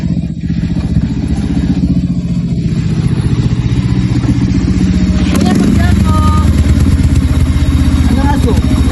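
A motorcycle engine runs steadily and close throughout, its low rumble rising in the second half, with people talking over it.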